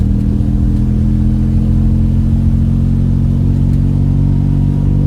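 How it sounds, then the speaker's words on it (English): A car engine hums steadily from inside the cabin while driving, a low, even drone with a mild rumble and no voices, holding constant for several seconds. "It's always nice to drive this car."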